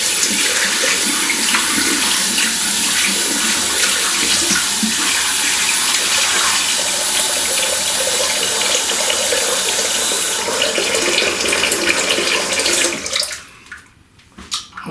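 Tap water running hard and steadily into a sink before shaving, loud and close, then cutting off near the end, followed by faint handling noises.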